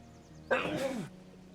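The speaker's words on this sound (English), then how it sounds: "And I feel like I have to sneeze." One person sneezes once, a sharp close burst breaking over quiet background game music.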